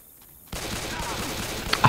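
Shotgun fire in Left 4 Dead 2: after a quiet half-second, a loud burst of gunfire erupts into dense, continuous rattling shots, close and heavy, with a sharp crack near the end over the game's din.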